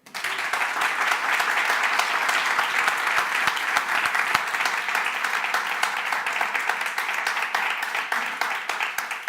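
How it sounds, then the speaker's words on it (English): Sustained audience applause at a talk, a dense, even wash of many hands clapping that holds steady throughout without any voices. "And a huge round of applause for Alfredo."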